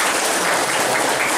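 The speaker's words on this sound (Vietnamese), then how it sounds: "Xin cho tràng pháo tay nhé." Applause from an audience after a healing ceremony with a priest, a dense steady wash of clapping filling the whole short stretch at full loudness with no voices.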